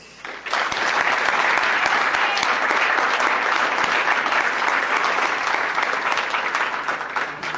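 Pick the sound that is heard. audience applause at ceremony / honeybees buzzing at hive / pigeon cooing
audience applause at ceremony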